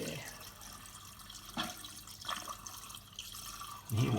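Water trickling and dripping underneath a Morris 1100 just after a water pump install, a light irregular splashing with a few sharper drips, fairly close, and a voice breaks in near the end.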